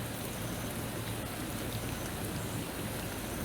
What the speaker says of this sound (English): But I love this environment because of the rain.